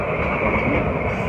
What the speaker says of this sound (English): Yeah, there's a train right here.